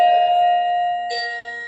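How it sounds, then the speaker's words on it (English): Electronic doorbell chime rings out clearly with sustained bright tones, a second chime phrase starting partway through, no talking over it. "I wouldn't have a doorbell like that."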